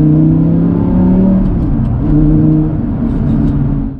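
An Audi R8 V10 supercar with a modified exhaust accelerates from the cabin, its engine note loud and continuous with a rising, shifting drone throughout.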